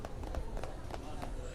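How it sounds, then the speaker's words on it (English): Quick footsteps rush up a flight of stairs in the PlayStation 4 video game 428: Shibuya Scramble, a rapid series of light taps under a spoken voice. "Then came the sound of footsteps rushing up the stairs."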